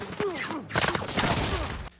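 Gunfire in a hostage standoff as armed men attack, with several sharp broadband bursts between about 0.7 and 1.9 seconds, cutting off abruptly. Tonal voice-like sweeps come earlier, over a dense, loud background.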